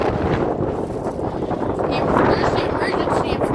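Strong wind buffets the microphone at a rural railroad crossing in Shelby, Montana, a loud continuous roar of gusting noise throughout, with a person speaking under it.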